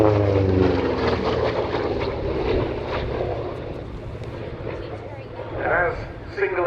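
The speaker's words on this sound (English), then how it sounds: "Single-engine fighters for their part, beginning with the P-47." P-47 Thunderbolt single-engine piston fighter flying at the Duxford Battle of Britain airshow, a steady loud propeller-engine roar passing by, fading slightly and then surging again toward the end.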